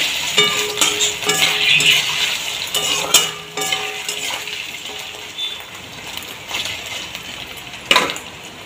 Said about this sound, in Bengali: পনিরগুলোকে আমি একটু হালকা করে ভেজে নেব।